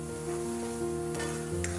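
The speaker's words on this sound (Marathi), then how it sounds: "कढईमध्ये थोडंसं तेल टाकून त्याच्यामध्ये हे वाटण टाकायचं आहे आणि असं व्यवस्थित परतून घ्यायचं आहे." A ground spice paste fries in hot oil in a wok, a steady loud sizzle with scraping stirs over a constant background hum, no speech.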